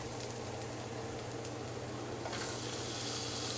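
Pork chops sizzle in a pan with onion and garlic, a steady close frying hiss with soft crackle that brightens slightly toward the end.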